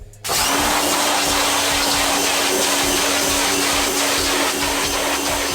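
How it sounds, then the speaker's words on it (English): Power washer spraying emulsion off a screen-printing screen, starting abruptly and then holding a loud, steady, broadband hissing roar with a faint motor hum beneath, unbroken until the end. "now we're just gonna grab our power washer and kind of wash out all of that emulsion"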